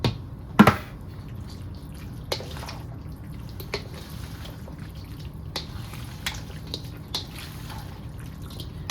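Baked tortellini is stirred with tomato sauce in a dish, giving soft wet clicks and scattered taps against a quiet background.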